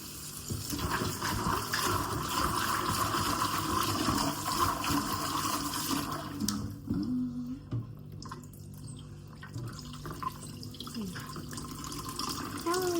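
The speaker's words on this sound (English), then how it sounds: "We are pouring all the water so that we can put the rest of the beans inside the stove." Cooking water is poured off boiled beans for Ghanaian red red, a steady close splashing and trickling that lasts about six seconds before fading to faint drips, with people talking over it.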